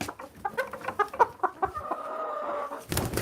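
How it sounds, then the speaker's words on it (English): A small, skittish Polish hen clucks in a quick run of close, fairly loud, uneven calls as she is picked up, ending in a brief fluttering scuffle. "She's a little tiny Polish hen."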